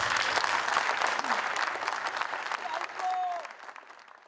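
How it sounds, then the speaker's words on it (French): A concert audience claps for a jazz orchestra in Ouagadougou, dense applause that gradually thins out, with a voice speaking briefly over the tail. "On les applaudisse très fort."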